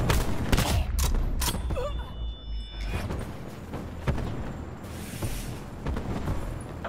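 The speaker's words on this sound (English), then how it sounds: "Sniper firing." Sniper fire and other gunshots in Call of Duty Black Ops 4, sharp reports and bursts scattered among battle noise and impacts, fairly loud.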